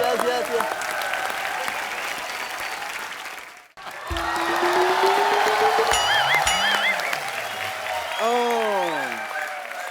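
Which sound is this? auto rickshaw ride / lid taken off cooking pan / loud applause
loud applause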